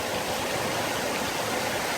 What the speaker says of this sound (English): It's raining sideways on that mud.